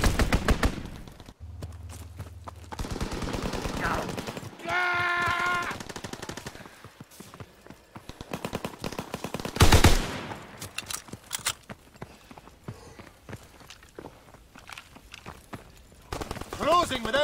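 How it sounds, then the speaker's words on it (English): Strafing-run gunfire in Call of Duty WW2 on PS4 sounds as rapid bursts of machine-gun fire and scattered shots, loud and sustained. A game announcer voice speaks over it, along with other game effects. "Strafing run inbound."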